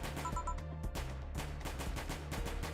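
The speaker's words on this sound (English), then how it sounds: "Most likely gunshots" Distant gunshots from the video game VA-11 Hall-A, a dense run of cracks and bursts under a steady layer of background music.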